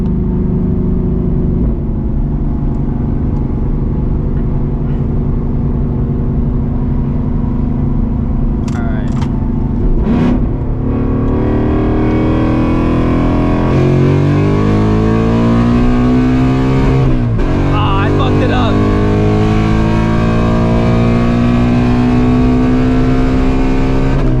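A 486 hp Ford Mustang GT S650 V8 idles loudly up close, then revs hard in rising sweeps, bouncing off the rev limiter before settling back to a deep rumble on the street.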